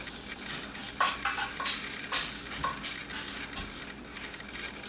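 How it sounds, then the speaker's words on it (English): A brush stirs hair dye and developer in a bowl, giving soft wet scraping and light clicking strokes against the bowl, close and steady with no voices. "I'm going to take my brush and I'm going to go ahead and mix this up"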